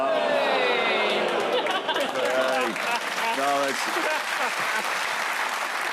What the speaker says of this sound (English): A groan followed by a round of applause